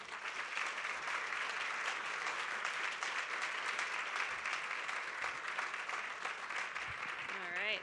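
Sustained applause from a luncheon audience welcoming a speaker at a chamber of commerce economic event, a dense, even wash of many hands clapping that holds steady throughout, fairly close and full.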